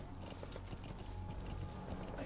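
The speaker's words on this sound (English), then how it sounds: "Jump on old horse mate here." A horse gallops in Metal Gear Solid V: The Phantom Pain, its hooves clip-clopping in a steady, quick rhythm that stays fairly faint beneath a low game soundscape.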